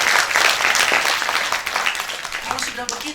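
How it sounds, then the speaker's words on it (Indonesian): Church congregation clapping for God during a live-streamed Sunday worship service, loud and dense at first, then thinning toward the end as voices and other sounds come in. "tepuk tangan dulu buat Tuhan"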